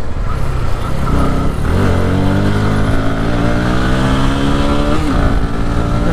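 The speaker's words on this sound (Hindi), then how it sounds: "यहाँ तक तो बाइक को खींच रहा हूँ" A Bajaj Pulsar NS200 motorcycle revs and accelerates close by, its engine note climbing through several rising sweeps, dipping briefly between pulls and then pushing up again. The engine is loud and alone.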